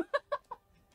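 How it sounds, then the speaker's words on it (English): Chickens clucking in Skyrim as they attack someone: three short, bright clucks in quick succession, close and fairly loud, with no talk over them. "Oh, the chickens are attacking him!"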